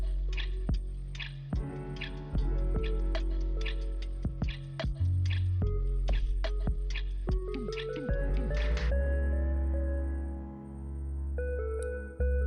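Chopped coconut crackles and sizzles in hot oil for chicken roast, with scattered sharp pops and spits over a steady frying hiss, close by and without any talking.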